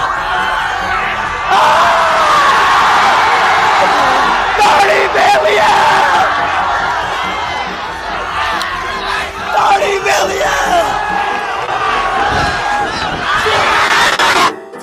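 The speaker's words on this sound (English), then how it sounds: "his fans were screaming." A large crowd of fans on a road screams and cheers continuously, a dense, loud roar of yelling voices with occasional louder whoops throughout.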